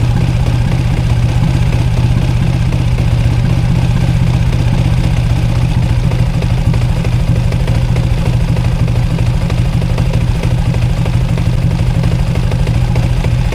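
A Yamaha Sniper 155 motorcycle engine on a stock engine idles steadily with a low, even rumble and a faint mechanical clatter, close and continuous without revving.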